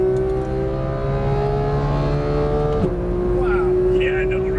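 A 2015 Porsche 911 GT3 race car on track at Las Vegas Motor Speedway: a loud, steady engine drone heard from inside the car, its pitch holding and then shifting at a gear change, with a voice talking over it.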